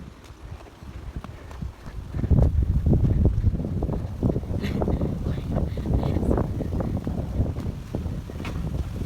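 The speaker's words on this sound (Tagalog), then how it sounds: "Grabe ang lakas ng hangin." Strong wind buffets the microphone, producing a continuous low roar with gusty thumps that grow louder partway through.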